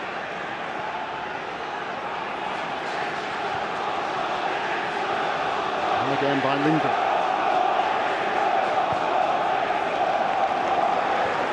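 A football crowd in the Holte End at Villa Park, during Aston Villa against Ajax in a 2008 Europa League match, chants in a dense stadium roar that grows louder partway through, under a commentator talking.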